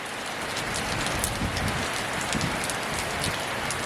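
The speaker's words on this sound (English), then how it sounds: "the rain gets harder and harder" Heavy rain pours steadily, a dense continuous hiss with scattered louder drops striking nearby surfaces.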